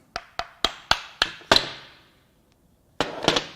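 Hammer tapping apart parts of a Mazda Skyactiv 2.0L engine: six sharp metallic knocks in quick steady succession, a pause of near silence, then a tight cluster of three more, close and clear with no talk.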